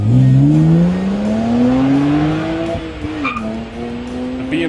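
BMW and Audi turbocharged sedans run hard on a test track, one engine note climbing steadily in pitch as it accelerates, with tire noise and a gear change near the end, loud and close with no talk.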